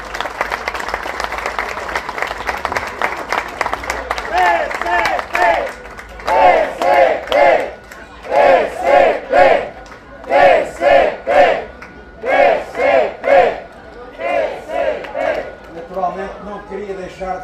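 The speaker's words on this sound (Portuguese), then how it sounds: "bem merecem o nosso aplauso, bem merecem a nossa saudação" A crowd at a political rally and dinner claps steadily, then breaks into rhythmic chanting in loud repeated bursts, with cheering and clapping continuing between the chants.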